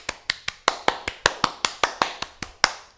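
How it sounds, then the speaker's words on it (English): A single pair of hands claps about fourteen times in a steady, even rhythm, each clap sharp, close and isolated, with no crowd joining in. "Another round of applause."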